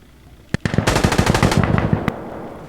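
Automatic gunfire in the video game Insurgency Sandstorm: a sharp opening shot, then a fast, loud burst of rattling rounds, and one final crack after a brief gap.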